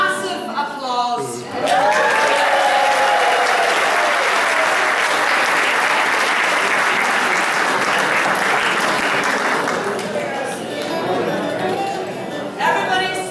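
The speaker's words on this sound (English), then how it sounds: "She only responds well to massive applause." Massive applause and cheering from a crowd at a big 80th birthday bash, loud and sustained for over ten seconds, with voices and laughter mixed in at the start and end.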